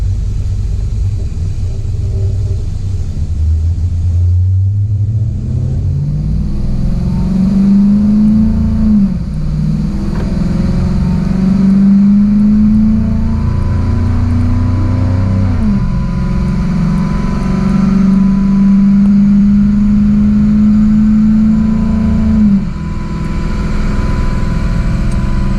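A cammed 6.1 Hemi V8 on a dyno, loud and close, rumbles at idle and then climbs through several rising rev sweeps with brief dips between them, its deep throaty note dominating the whole stretch.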